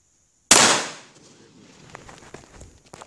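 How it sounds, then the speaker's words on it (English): A homemade shotgun built from an old Mossberg 500 barrel fires one sharp, loud outdoor blast that rings and fades over about half a second, followed by faint rustling. "we are finally being able to get the shotgun successfully firing multiple consecutive shots"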